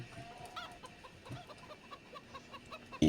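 Hens cluck softly in short, scattered calls against a quiet farmyard background in Farming Simulator 17, ending with a sudden louder thump.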